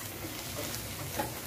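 Chopped cashews stirred into a bottle gourd mixture in a pan for lauki cake, a soft steady scraping and faint sizzle, close and continuous, with no talk.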